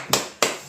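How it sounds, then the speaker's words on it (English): Three sharp, separate hand claps ring out close by, evenly spaced in quick succession with brief decays between them, following a music performance. "That deserves a round of applause."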